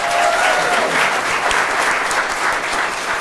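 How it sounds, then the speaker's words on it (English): A round of applause breaks out at an employee pinning ceremony for Clayton County staff, a dense, steady wash of many hands clapping that holds loud and even throughout with no break. "Let's give them a round of applause."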